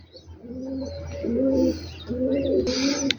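A pigeon at a rooftop loft in Rawalpindi coos in clear, close, repeated low throaty phrases, about three coos in a row, with a brief rustle near the end.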